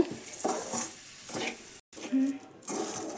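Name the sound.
coconut and sugar mixture being stirred and fried in a pan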